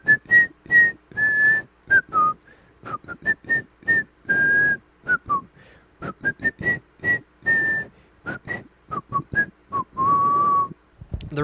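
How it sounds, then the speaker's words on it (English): A person whistles a tune outdoors on a walk, a clear melody of short and sustained notes with brief pauses, alone and close, with no talking. "there's a whistle tone. It goes."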